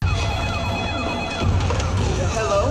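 A security alarm siren blares in a Descendants film scene, its wailing tones sweeping steadily and loudly over a dense, busy background for the whole stretch.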